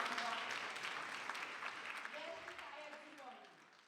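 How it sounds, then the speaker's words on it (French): Applause at a ceremony marking International Women's Day at a hotel, a steady wash of clapping that slowly fades over a few seconds, fairly quiet and distant. "Je vous demande d'applaudir encore"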